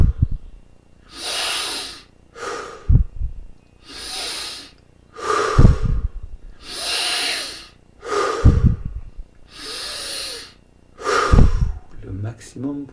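Deep, slow breaths during a meditation exercise, drawn in and pushed out in a steady cycle of about six long inhales and exhales, loud and close, with sharp nasal snorts at the turns and a brief voice near the end.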